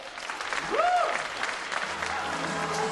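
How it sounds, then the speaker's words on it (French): Audience applause at a live stand-up comedy show in France, a dense steady wash of clapping with a brief whoop or cheer rising over it, filling the whole stretch at moderate loudness. "Applaudissez-les tous les deux."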